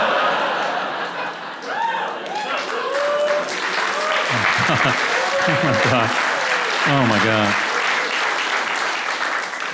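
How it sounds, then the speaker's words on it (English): Comedy club audience applauding a stand-up comic, a steady wash of clapping that fills the room throughout while a voice speaks over it. "I can't believe you applauded at that."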